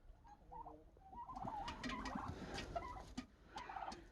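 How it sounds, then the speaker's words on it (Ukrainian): Turkeys gobble and chatter in a quiet pen in a village poultry yard, several birds calling in short bursts with a few scuffs nearby. "Індики так сильно не грибуть лапами, як кури."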